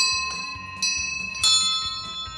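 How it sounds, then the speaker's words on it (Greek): A bell rings to signal the end of a volleyball match: three bright metallic strikes with sustained ringing tones, loud and close over low background rumble. "Το καμπανάκι σήμανε το τέλος."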